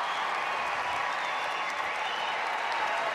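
A large arena crowd at the Westminster dog show applauds in a dense, steady wash of clapping and cheering, continuous and somewhat distant.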